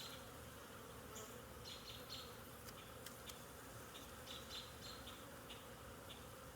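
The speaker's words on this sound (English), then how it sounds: "It's not that I'm trying to not kill a bee, because there's literally thousands and thousands in here." Thousands of honeybees hum steadily inside an opened beehive during a first hive inspection, a dense, continuous buzz with occasional individual bees droning close by, no talking.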